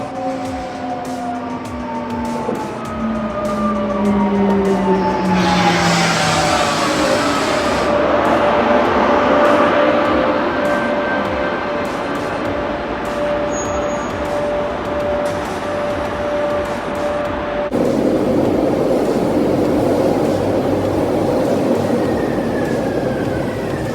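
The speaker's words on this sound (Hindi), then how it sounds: "ये इस तरह की यहाँ पे पुर्तगाल में ट्रेन होती है" A local commuter train passes by in Lisbon, Portugal, with a steady rumble and drawn-out tonal whines and squeals rising and falling over about twenty seconds of outdoor ambience.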